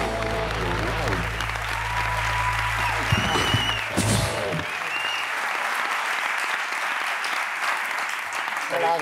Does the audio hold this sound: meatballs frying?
no